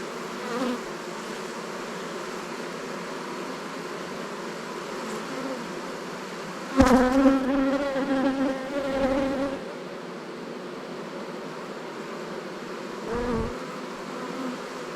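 Honeybees hum steadily in a hive around a queen cage, a close, continuous buzzing drone with a louder swell of wingbeats midway and a brief bump near the end.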